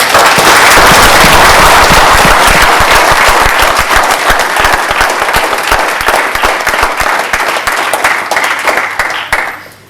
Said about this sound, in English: So a big round of applause to the Diamonds and the parents, please.